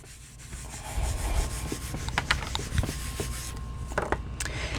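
A stamped glue dot backing being rubbed out by hand during a stamping craft, a soft continuous scratchy friction with occasional sharper scrapes, close and fairly quiet.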